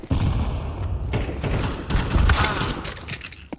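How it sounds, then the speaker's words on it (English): Gunfire in the game Counter-Strike 2 on the Ancient map comes as a burst of nearby shots and thuds followed by further volleys, loud and close, with no speech. "Getting shot from behind."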